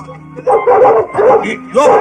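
A newly acquired dog yips and barks close by in a comedic film scene, giving three short excited bursts in quick succession.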